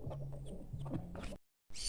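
Pet chickens on a rural farm cluck softly in short, low, repeated calls up close. A brief silence follows, then a burst of hissy noise.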